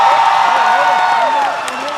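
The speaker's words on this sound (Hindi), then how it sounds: "जयदीप भाई के लिए जोरदार तालियां" Loud crowd applause and cheering for actor Jaideep Ahlawat at the Kurukshetra Ratnavali festival in Haryana, a dense steady roar of clapping with whoops that eases slightly near the end.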